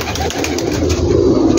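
Pigeons cooing in a large rooftop loft holding about 2000 birds in Gujranwala, a steady low murmur of many birds close by with no talk.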